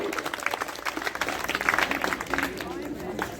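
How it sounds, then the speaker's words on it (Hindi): Audience applause at a school general-knowledge quiz prize ceremony in a village near Mathura, steady massed clapping from a crowd lasting throughout with a voice faintly mixed in. "बहुत बहुत धन्यवाद, तालियों से स्वागत किया जाए भाई"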